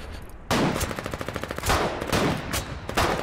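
Artillery shelling in the war video game Foxhole: a rapid series of loud, sharp blasts and cracks, with short bursts of repeated reports in between and no voices over them.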